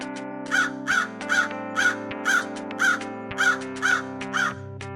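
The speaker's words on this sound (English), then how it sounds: "Crow crow crow." A crow caws again and again, about nine harsh evenly spaced calls ringing out clearly over soft background music, with no voices.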